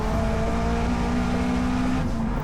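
A Subaru BRZ race car at speed on a circuit, its engine droning loud and steady with a sustained tone that dips slightly near the end, heard from close by.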